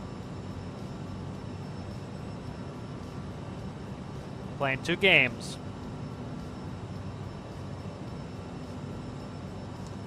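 A steady, low airplane engine drone from Microsoft Flight Simulator hums continuously in the background, briefly overlaid by a short burst of speech.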